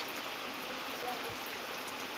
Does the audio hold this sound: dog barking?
no